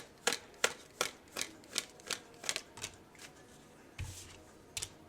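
Tarot cards are shuffled in a quick series of sharp riffling bursts, close and fairly quiet, with a roughly steady rhythm.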